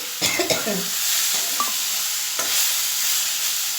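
Flat shim beans fry in a pan with a soft, continuous sizzle. A few brief scrapes and clatters come near the start, and no one speaks.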